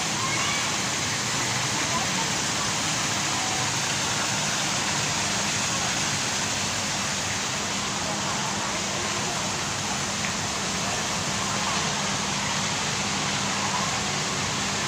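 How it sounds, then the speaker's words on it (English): Steady rushing splash of a man-made waterfall and fountain beside a pool, a continuous broadband wash filling the whole stretch at an even, fairly close level. "There's sort of a man-made waterfall here"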